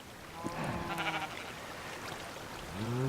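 Minecraft sheep bleat in the game, a couple of short wavering calls, one early and another rising near the end, over a steady background hum.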